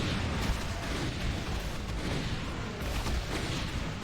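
Continuous dense explosions and gunfire from a modded Doom game session, a steady loud wash of booms filling the whole stretch without pauses or talk.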